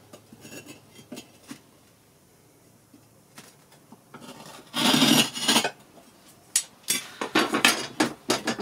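A kiln brick is scored with repeated rasping scrapes, a few quiet strokes followed by louder, longer bursts of gritty scraping in irregular rhythm.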